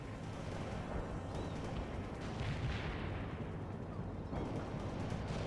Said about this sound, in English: Zulu 9 are firing mortars